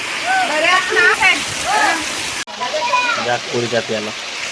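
Heavy unseasonal downpour falling outdoors, a steady loud hiss throughout, with people talking over it close by.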